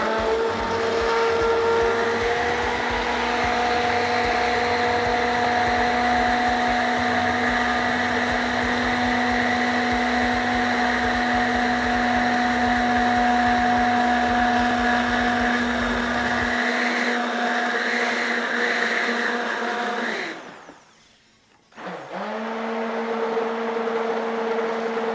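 An immersion blender runs in a home kitchen during lasagna prep, giving a steady high whirring drone for about twenty seconds. It then cuts out with a brief drop and restarts just as evenly.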